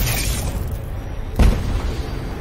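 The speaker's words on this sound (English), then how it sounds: "Enemy ship destroyed." A spaceship explodes in the space combat game Star Conflict: a single dull boom bursts out of a steady low rumble and fades quickly, with no talk over it.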